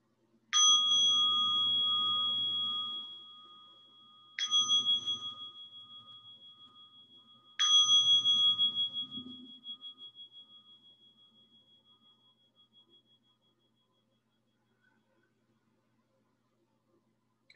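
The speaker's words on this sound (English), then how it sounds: "I'll invite 3 sounds of the bell." A meditation bell is struck three times at a slow, even pace during a vigil, each strike ringing clear and close before a long fading decay, the last tone dying away into near silence.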